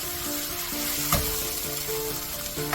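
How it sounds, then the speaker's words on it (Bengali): Onions and spices for rohu fish curry sauté in a hot pan, a steady close sizzle with occasional stirring scrapes and clinks. "তো এগুলো দিয়ে আমি সুন্দর করে কষাই নিব।"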